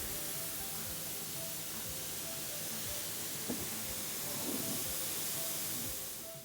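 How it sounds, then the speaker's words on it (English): Veggie hamburger helper ingredients, onions and garlic, sizzle in a pan, a steady, fairly quiet hiss and crackle that continues throughout with no voices. "sizzle, sizzle!"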